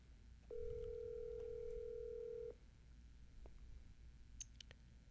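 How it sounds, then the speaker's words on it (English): An outgoing phone call rings once as a steady, clear tone lasting about two seconds, followed by quieter line noise and a few faint clicks. "We're going to give him a ring, see if he answers the phone."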